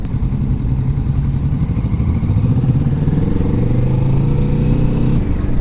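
A 2021 Kawasaki Vulcan S 650 motorcycle being ridden around Bournemouth, its loud close engine droning steadily and rising in pitch as it accelerates, with wind noise and no talk.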